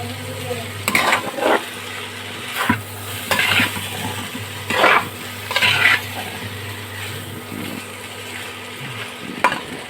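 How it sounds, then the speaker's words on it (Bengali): Egg chicken chowmein is stir-fried in a pan with little oil: a low sizzle is broken by repeated bursts of tossing and spatula scraping at an uneven rhythm. "এটাকে ভালো করে এখন মিক্স করে একটু ভাজা ভাজা করে নিই"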